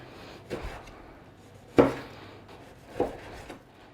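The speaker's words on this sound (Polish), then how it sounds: "Jeszcze pokroję limonkę, pozwólcie." A knife cuts a lime on a board in a few separate, sharp knocks spaced about a second apart, with quiet room tone between them.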